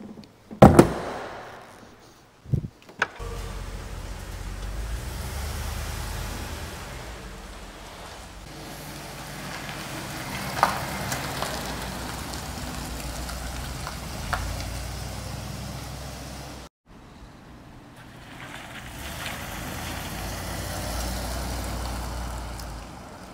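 A 1985 Rolls-Royce Silver Spur with an automatic gearbox drives on a road test. A few door-like thumps open the clip, then a steady low rumble of road and engine noise continues, with a brief drop partway through.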